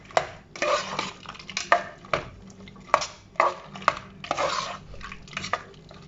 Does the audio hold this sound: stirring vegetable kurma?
yes